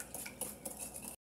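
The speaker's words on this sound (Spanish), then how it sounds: "Y batimos hasta que el azúcar esté diluida" Sugar being whisked by hand into an algarrobina cocktail mixture of pisco and syrup, giving fast, rhythmic metal clinks and scrapes against the bowl in an even, close-up run that stops abruptly.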